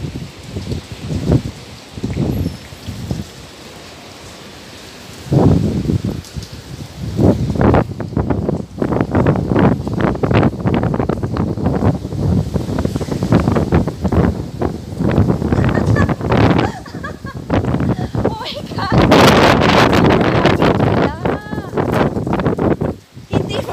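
Strong, gusty typhoon wind in Hong Kong roars and buffets the microphone in loud surges, with voices talking intermittently underneath.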